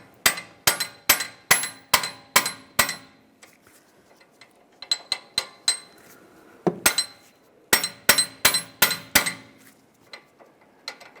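A front end tool is hammered to separate an outer tie rod on a 2006-2009 Mercedes-Benz E350, sharp metallic taps ringing in three rhythmic bursts of about six to eight blows each, close and loud with short pauses.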